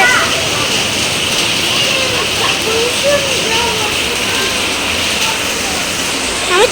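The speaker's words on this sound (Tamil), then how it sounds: "மழை குப்பு குப்புன்னு அடிக்குது." Heavy rain pours steadily as a continuous loud wash of hiss and splatter, with a voice speaking over it throughout.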